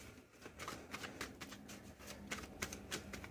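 Tarot cards being shuffled and drawn by hand, with a close run of quick riffling flicks and soft slaps at an uneven rhythm, fairly quiet and without talk.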